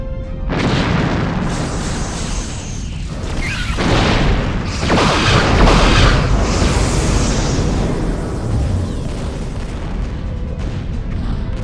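A simulated enemy ship blows apart in a Star Trek battle against Borg cubes, a loud rolling explosion with deep rumbling booms that swell and slowly fade over several seconds.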